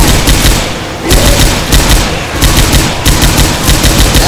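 M60 machine guns fire in Left 4 Dead 2 survival mode on the Swamp Fever map, loud, dense sustained bursts of automatic gunfire with brief dips between volleys, close and without talk.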